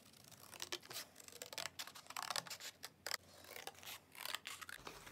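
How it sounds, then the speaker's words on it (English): Scissors snip repeatedly through a paper triangle template for lace bunting, a close series of crisp cuts and slight paper rustles in an otherwise quiet room. "Now I'm going to cut my triangle out."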